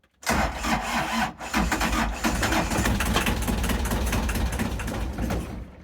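A small engine sputters and turns over, then runs loudly with a steady, rough mechanical chug close by.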